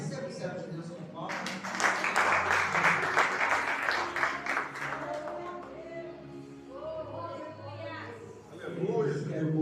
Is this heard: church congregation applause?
yes